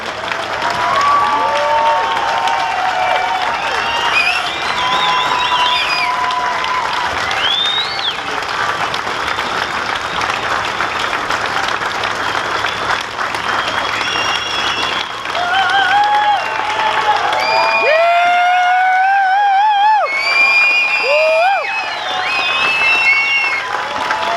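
Loud, sustained applause from a large crowd honoring wounded veterans at a Boston motorcycle run, with scattered whoops and cheers rising above the clapping throughout.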